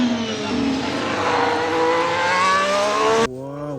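An electronic toy F1 race car plays a loud, steadily rising engine rev for about three seconds, then cuts off and a short descending whine follows.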